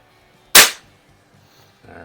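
A single shot from an Umarex Ruger APX NXG pump-action .177 pellet rifle firing a 5.2-grain pellet: one sharp, loud crack that fades quickly into near silence, followed by a faint rustle.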